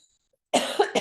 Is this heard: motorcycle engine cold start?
no